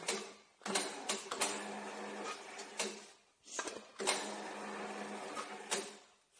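A machine whirs and rattles as a valve box part is pushed through it, in bursts of busy mechanical buzzing broken by short pauses, close and moderately quiet with no talk.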